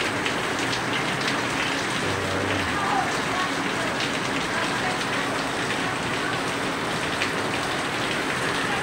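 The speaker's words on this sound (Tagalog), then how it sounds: "malakas naman pang ulan dito sa Bulan, sa Sabon." Heavy rain falls steadily in Bulan, Sorsogon, in the Philippines, making a dense, continuous hiss that holds at the same level throughout, with a brief low rumble partway through.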